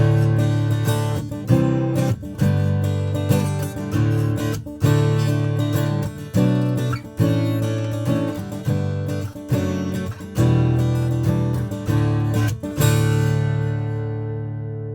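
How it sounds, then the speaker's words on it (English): A Lowden O10 acoustic guitar with an LR Baggs Anthem pickup through a Grace Design Felix preamp, heard via room mic and direct signal. Rich strummed chords ring out in steady rhythmic phrases, alone and close. "Again, I'm playing this Lowden O10."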